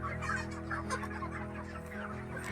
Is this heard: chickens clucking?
yes